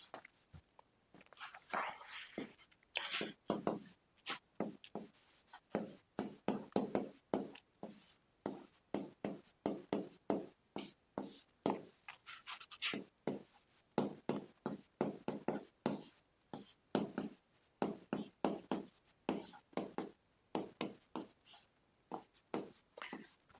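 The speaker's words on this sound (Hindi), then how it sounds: "थोड़ा सा ऊपर लिख लेते हैं" Chalk or marker scratching across a classroom board in quick irregular strokes, close and fairly quiet, continuing for more than twenty seconds with no one speaking.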